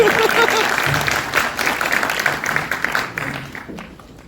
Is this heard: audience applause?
yes